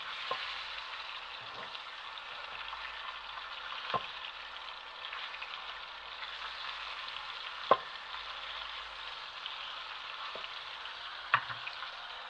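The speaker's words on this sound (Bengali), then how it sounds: "আগে এইটাই তো মাছটা ভেজে নি" A fish head fries in a pot, giving a steady close hiss and crackle of hot oil with a few sharp pops and occasional stirring knocks, continuous and moderately quiet, with no talking.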